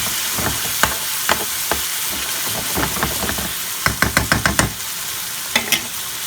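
Chicken tikka achari bubbles and sizzles in base gravy in a pan, with a steady close-up simmer punctuated by sharp spoon knocks and a quick run of stirring taps.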